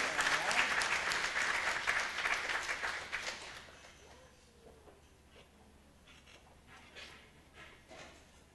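An audience applauds at a Deferred Action town hall meeting: steady, full clapping from a crowd for about three and a half seconds, then fading into quiet room tone with faint murmurs.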